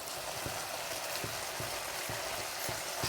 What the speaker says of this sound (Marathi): बघा असं बाजूने आता तेल सुटले. आता एक बाजू आपली फ्राय झालेली आहे.